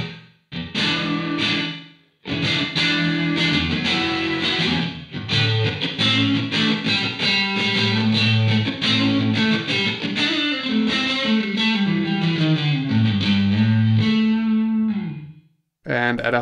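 Electric guitar through a Two Notes Torpedo Captor X with its loft reverb at 50 percent, played as a loud continuous phrase of distorted chords and single notes with a roomy tail and brief gaps near the start and end.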